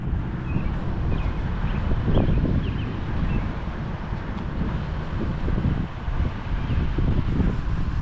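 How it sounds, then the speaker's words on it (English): Strong outdoor wind buffets the microphone in a continuous roaring rumble, a gusty blow that keeps a flag standing straight out under a threatening sky. "look at this flag in the wind over here. It's straight on out."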